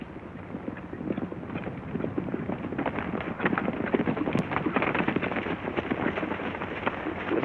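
A group of horses trotting, with a steady, dense clatter of hooves continuing throughout, fairly loud and close, with no talking.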